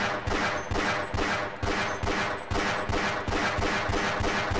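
Missiles are shot down with rapid gunfire in the video game Half-Life: Blue Shift, a loud unbroken stream of close, evenly spaced shots with no talking.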